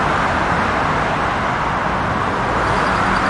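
Steady road traffic rumbles near a bus stop beside a metro station and multimodal transit hub, a dense continuous wash of passing vehicles at close range with no voices.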